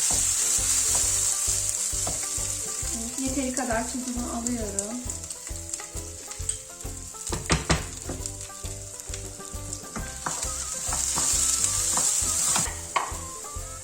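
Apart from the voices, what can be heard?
roasting orzo and rice in butter in a pot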